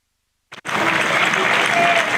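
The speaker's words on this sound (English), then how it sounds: "let's hope he gets a good ovation" Crowd at a T20 Vitality Blast cricket match between Sussex Sharks and Hampshire Hawks breaks into sustained, broad applause as a player walks out, starting abruptly after a brief sound and holding steady.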